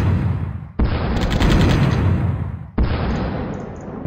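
An artillery barrage strike in a strategy video game, two heavy booming impacts followed by long rumbling, crackling explosion tails, loud and close with no talking.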